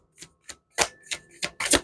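Tarot cards being shuffled by hand, a series of short papery riffles and slaps in quick irregular bursts, close and fairly crisp, with no talking.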